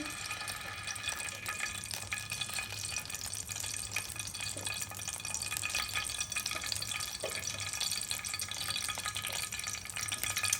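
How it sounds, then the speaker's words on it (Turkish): Chopped vegetables frying in vegetable oil in a home kitchen pan make a continuous soft sizzle and crackle, steady and fairly faint, with a few light clinks and no talk. "Ve bunlar biraz böyle kahverengileşinceye kadar kızarmasını bekliyorum."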